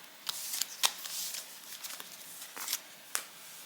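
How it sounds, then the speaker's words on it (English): Tarot cards being moved and handled on a table, a series of soft, close card slides and snaps at irregular intervals, with no talk. "I'm going to actually move these other cards out the way real quick."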